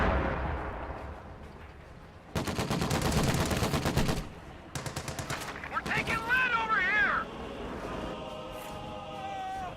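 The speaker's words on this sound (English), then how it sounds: "Sniper firing on riflemen here in the south." Sniper and gunfire in a video game battle: loud, dense bursts of rapid shots in two clusters, followed by sharper single cracks and wavering whistling tones over a low battlefield rumble.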